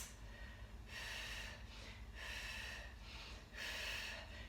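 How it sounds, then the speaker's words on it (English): Pilates breathing, drawn in through the nose and pushed out through the mouth during a leg-pulsing exercise: several close, soft, rushing breaths in a slow steady rhythm, with no talking. "As you can hear, I'm breathing away there through the mouth, in through the nose and out through the mouth."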